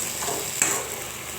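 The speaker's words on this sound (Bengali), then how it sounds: "এদিকে কড়াইটা বসিয়ে শুকনা লঙ্কা পাঁচ ফোড়ন ফোড়ন দিয়ে কেটে রাখা সবজিগুলো বসিয়ে নিলাম" Cut vegetables frying in a wok with dried chili and five-spice seeds, a steady close hiss of sizzling oil with a brief stir-scrape clatter partway through.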